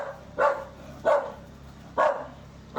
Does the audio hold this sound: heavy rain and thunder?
no